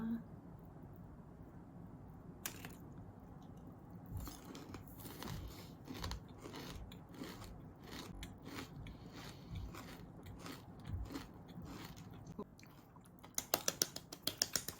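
Crunchy bites and chewing sound up close, brittle cracks and crackles repeating, with a burst of sharp crunches near the end.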